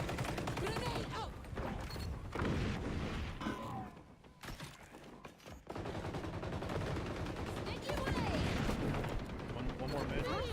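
A grenade blast amid ongoing gunfire in a first-person shooter video game, loud bursts of shots and booms mixed with people talking over the action, with a brief lull partway through.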